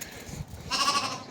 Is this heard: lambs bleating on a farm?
yes